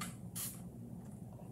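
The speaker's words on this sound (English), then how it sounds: "If it starts drying and kind of coagulating, just give it a little spritz." A spray bottle gives a single short, close spritz of water onto a paint-covered sweater pumpkin, a brief hissing burst over a quiet room background.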